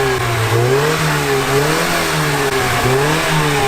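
Ford Fiesta fitted with an RS accessory exhaust back box, revving in repeated rising and falling throttle blips with a raspy, close, loud exhaust note and no talking.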